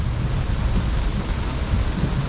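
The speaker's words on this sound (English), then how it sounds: "it's raining so hard now" Very heavy rain pounds steadily on a Tesla on the road, a loud, dense, unbroken roar with deep rumbling underneath and no voices.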